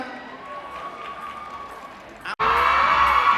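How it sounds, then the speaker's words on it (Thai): Audience at the Kazz Awards 2024 ceremony breaking into loud applause and cheering after a quiet stretch, the clapping starting abruptly and continuing strongly to the end. "ขอเสียงปรบมือสักครั้งได้ไหมฮะ"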